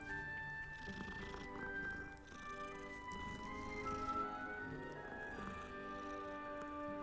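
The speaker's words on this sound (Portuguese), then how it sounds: "Oh meu Deus! Tem tanto gatinho aqui," Several cats meow in the Hogwarts Legacy video game over a steady bed of game music and ambience, their cries blending into the dense tonal layers, with a few brief soft squishy sounds.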